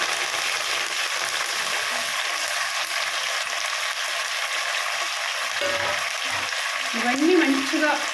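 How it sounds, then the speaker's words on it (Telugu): Curry leaves fry in hot tempering oil for a red chili chutney, giving a loud continuous close sizzle, with a brief stirring scrape near the end. "వీటితో పాటు కరేపాకు కూడా వేగాలి"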